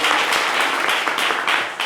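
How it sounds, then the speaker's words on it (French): Audience applause at a live French-language stage show, dense steady clapping from a crowd filling the whole stretch, fairly loud with slight swells and no voices on top. "On va l'applaudir très fort, s'il vous plaît."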